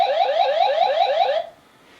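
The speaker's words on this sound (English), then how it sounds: "But here's one of the alarms of what it would sound like." Panasonic BL-C230 security camera alarm, a loud electronic warbling siren with rapid repeating rising sweeps, sounding alone for about one and a half seconds before cutting off to near silence.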